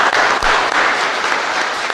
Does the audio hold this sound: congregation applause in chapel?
yes